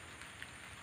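Light drizzle falls during a water spinach harvest on a farm, a faint, steady hiss of fine rain heard alone for a brief moment.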